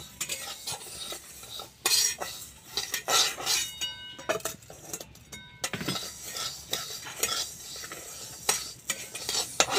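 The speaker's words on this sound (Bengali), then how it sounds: "আমি ডালটা হালকা করে ভেজে নেব, আর বেশি ভাজা হয়ে গেলে আর ডাল সেদ্ধ হতে দেরি হবে।" Moong dal is lightly fried and stirred in a pan: uneven bursts of spatula scraping and metallic clinks against the pan over a soft background sizzle, close by and quiet overall.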